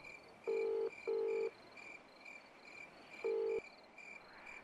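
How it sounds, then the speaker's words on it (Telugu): A phone rings in a Telugu drama scene, with two closely spaced electronic ring bursts, a pause, then a third, each loud and clear over a faint steady background hum. "ఎత్తవేముండా ఫోన్ ఎత్తు"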